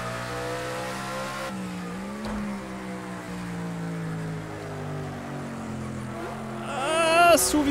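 Race car engines roar in the Project CARS 2 video game as the player runs ahead of four Ford Sierras. Layered engine drones shift pitch steadily, and a loud high revving burst comes near the end.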